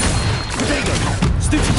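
A fire spell, Incendio, is cast in a Harry Potter video game during a fight with spiders. It is a loud, dense whoosh and crackle of blasts and impacts that fills the whole moment.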